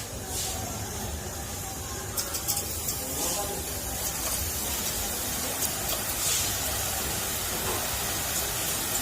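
Sweet boondi batter fries in hot oil in a kadai, poured through a perforated ladle, giving a loud, steady, dense sizzle with a few sharper crackles throughout.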